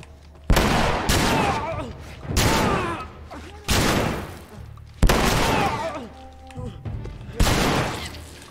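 Sniper rifle fire from The Last of Us, six sharp loud shots spaced about a second apart, each with a ringing tail and echoing decay.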